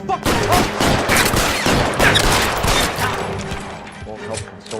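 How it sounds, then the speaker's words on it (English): Sustained suppressing gunfire in the video game L.A. Noire, a loud dense fusillade of rapid shots rolling on for several seconds, with a voice mixed in underneath. "I'll lay down some suppression fire"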